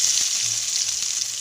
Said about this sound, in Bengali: এই মাছ ভাজার তেলেই কালো জিরে ফোড়ন দিয়ে দেব